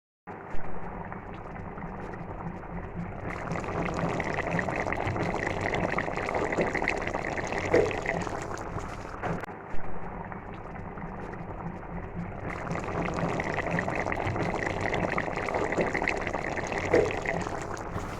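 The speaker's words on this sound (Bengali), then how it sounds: "এখন ঢেলে দিচ্ছি নেহারির মধ্যে।" Hot spiced oil tempering with browned aromatics poured into a pot of beef nihari, a loud sustained sizzle and bubbling that surges, dips briefly and swells again, fairly close.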